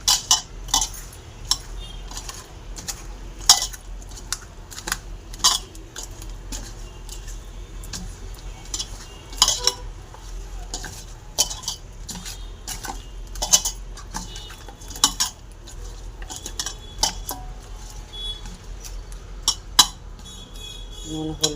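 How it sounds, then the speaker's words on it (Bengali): Fish pieces being mixed by hand with salt and turmeric in a bowl, giving a steady run of light clinks, taps and wet handling sounds close by, with no talk. "নুন হলুদ আমার ভালো করে মাছে মাখানো হয়ে গেছে"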